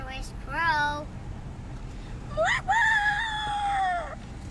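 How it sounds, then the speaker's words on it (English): A rooster crows twice, a short call followed by a longer drawn-out crow, fairly close, against low background rumble. "I'm gonna miss hearing his crows."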